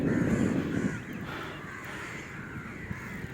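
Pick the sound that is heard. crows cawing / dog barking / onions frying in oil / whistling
crows cawing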